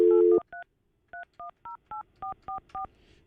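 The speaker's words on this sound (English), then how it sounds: "Calling Fester's cell." Cell phone keypad dialing a number: a brief tone ends, then nine short electronic touch-tone beeps in quick, slightly uneven succession, clear and close, with faint background hum.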